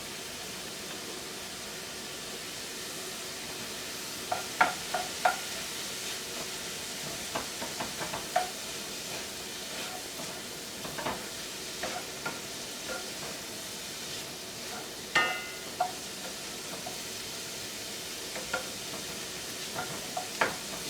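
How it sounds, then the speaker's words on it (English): Onions fry in a pan with a steady soft sizzle and hiss, broken by scattered light scrapes and taps as they are stirred, close and continuous for the whole stretch. "See how those onions are starting to get soft and a little clear."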